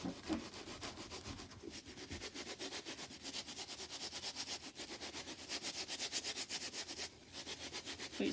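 Eggplant being rubbed by hand for pickling, a quiet rapid back-and-forth scrubbing with an even, regular rhythm that runs continuously, close up and without talk.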